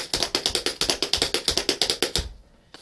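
Tap dance step, shuffle, step pattern in a funky warm-up, sounding as a fast even string of bright metallic taps close by, ending in a short silence, with no voices.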